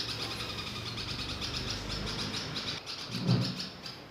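Little birds chirping in a nest inside a room alongside their mother, giving faint, thin high tweets over a steady hiss of room noise, with a soft low thump near the end and no voices.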